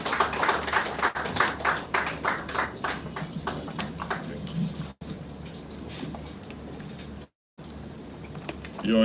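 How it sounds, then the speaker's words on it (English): An audience applauding at a university campus launch event, opening with rhythmic, fairly close clapping that thins out and fades into quiet room noise. "Please round of applause for His Excellency Chief"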